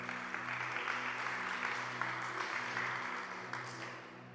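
A church congregation applauds, a steady wash of clapping heard at a distance over a low sustained musical drone, fading slightly toward the end.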